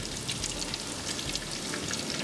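A first batch of six carnitas taquitos fries in 350-degree oil, giving a steady, close, dense sizzle and crackle that runs unbroken through the whole stretch with no talking.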